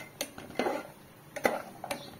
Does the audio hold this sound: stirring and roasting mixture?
yes